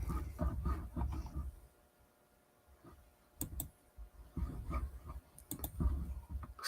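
Keys clatter on a computer keyboard in short bursts of sharp clicks, pausing for a quiet stretch before a fresh flurry of taps, close and fairly soft.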